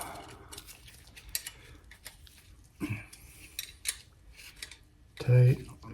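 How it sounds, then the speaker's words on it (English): Shimano chainring bolts are tightened on a crank set with scattered small metallic clicks and taps, with a louder clunk near the end, close and fairly quiet. "then I go ahead and tighten them down like so"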